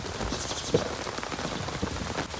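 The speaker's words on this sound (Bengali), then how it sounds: "বিশাল জোরে বৃষ্টি হচ্ছে।" Heavy rain pours down on surfaces by the Ganges riverside ghat, a dense steady hiss of drops hitting close by, strong enough to tug at an umbrella, with no voices over it.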